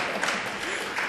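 Brief applause from a small audience at a poetry reading, a soft, even spatter of clapping heard alone for about a second.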